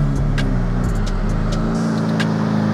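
A loud car engine rumbles close by and revs briefly, with a deep throaty roar that shifts in pitch partway through.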